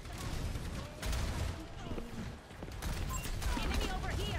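Mercy firing her small energy balls in Overwatch amid a hectic team fight, with repeated light shots and other gunfire mixed in, loud and continuous, with a player talking over the action.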